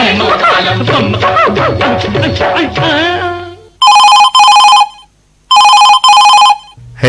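A telephone rings on an Akashvani Chhattisgarh radio phone-in request show, with two loud, close double-ring bursts separated by a short pause. They follow the fading end of a Hindi film song.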